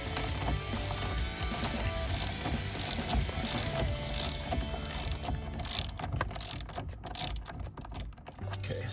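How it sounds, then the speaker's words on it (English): A ratchet with a standard 13 mm socket loosens the steering wheel bolt on an Audi R8, a steady, rapid clicking of the pawl close up that continues for several seconds before easing off. "we are gonna just loosen this thing with a standard 13 millimeter socket."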